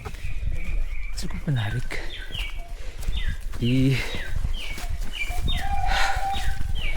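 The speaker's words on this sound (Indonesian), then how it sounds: "Suara burung pagi" Morning birds call on a hill trail, repeated chirps and clucking calls, fairly close and clear over a steady background, with someone talking briefly.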